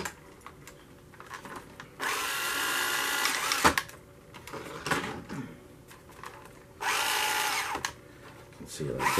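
Carrera Digital 1/24 scale Mercedes AMG C63 DTM slot car with its motor revved in two bursts, a high whirring whine rising and falling like a small drill, with quieter handling noises between.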